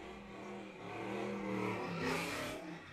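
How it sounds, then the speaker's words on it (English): A Ford Mustang's engine revs loudly at a car meet, a sustained throaty roar that swells and climbs in pitch before easing slightly, heard close and alone with no talking. "that Mustang sounds good"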